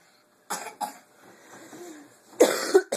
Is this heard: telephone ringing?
no